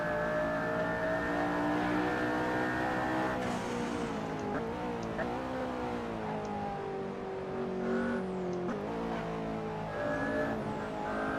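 McLaren P1 engine in Assetto Corsa racing around Silverstone, a loud continuous roar rising and falling through gear changes with tyre squeal, alone without talk.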